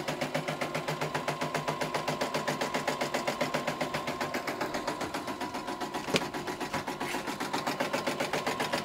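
A Poolin EOC05 embroidery machine stitching a sock monster softie in the hoop, a fast steady mechanical rhythm of needle strokes over a motor hum, close and continuous, no talk.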